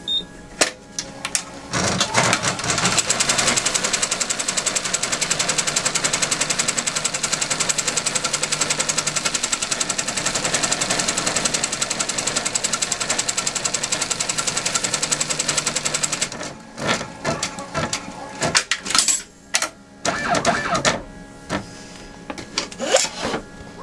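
A sewing machine stitches a crazy quilt block in a fast, steady whirring run lasting about fifteen seconds, then stops and gives a few shorter bursts with gaps between.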